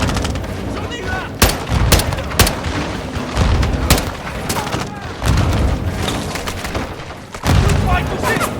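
Rapid gunfire in the Call of Duty Modern Warfare 2 video game, with bursts of rifle shots and heavy booms in a dense, continuous firefight, loud throughout with shouted voices mixed in.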